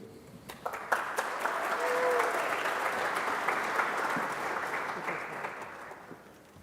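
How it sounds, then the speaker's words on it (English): A crowd at an engineering graduation ceremony applauds Dean Scott Ashford. Scattered claps swell into sustained, fairly distant applause that holds steady and then gradually tapers off, with a faint voice near the start. "It's not as much fun to clap for me as all these amazing graduates"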